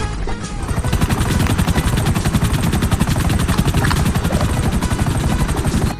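A toy helicopter in a miniature comedy setting gives a loud, continuous, rapid rotor chop, pulsing evenly throughout without voices.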